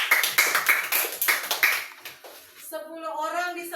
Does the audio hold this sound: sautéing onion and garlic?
no